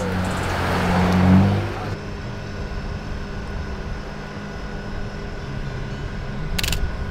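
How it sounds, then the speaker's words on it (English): A car on a road in the Bay Area sweeps past close by, a loud rising whoosh that peaks early and then fades into steady outdoor traffic hum, with a camera click near the end and voices nearby. "it's a car."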